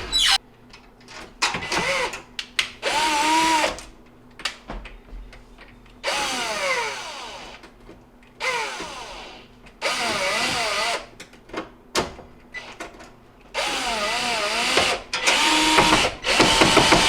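A power tool drives screws into the top of a Whirlpool oven, whirring in several separate bursts that rise and fall in pitch, with quiet pauses between them.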